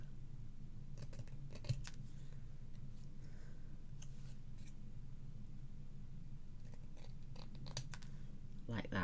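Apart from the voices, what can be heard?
scissors trimming card edges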